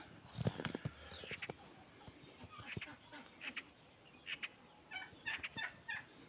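Faint chicken clucking and squawking comes in scattered bursts at a distance from a coop in winter, with quiet background noise between the calls.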